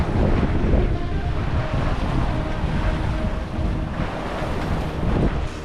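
Aboard a sailboat at sea on a solo passage from Fiji to New Zealand, a steady roar of wind buffets the microphone over the wash of waves against the hull, loud and continuous throughout.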